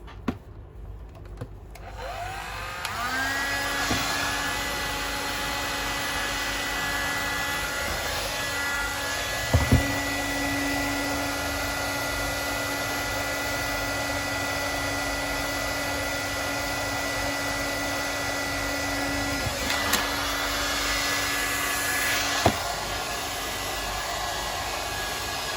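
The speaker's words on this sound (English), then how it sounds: "Now a hair dryer will actually start to shape the moustache somewhat." A hair dryer runs steadily while shaping the moustache on a 1/6 scale figure, a continuous loud blowing whine with a tonal hum that starts after a brief click, holds for over twenty seconds, and is briefly interrupted by small knocks.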